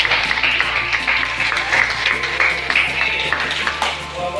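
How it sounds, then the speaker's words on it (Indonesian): A small group of students claps in a classroom for a winning team, steady clapping over a low background hum with a faint voice mixed in. "Oke, berikan tepuk tangan."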